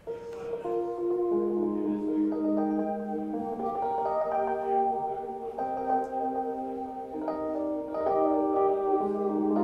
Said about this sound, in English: So if I play this with key pitch enabled, I can actually change the timing.